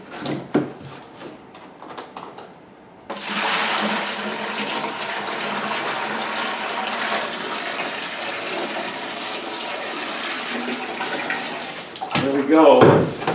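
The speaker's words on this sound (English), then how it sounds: "I'm going to take the water off and pour it out until I'm just down to the" Water is decanted off clay and poured into a sink, a steady rushing pour running for several seconds after a few clunks and handling noises, ending with a louder splash and clatter.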